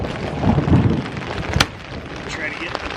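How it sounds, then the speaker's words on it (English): Thunder rumbles through a monsoon rainstorm, a broad low roll under steady rain and wind noise on a backpacking tent, with a sharp crack near the middle. "Lots of thunder."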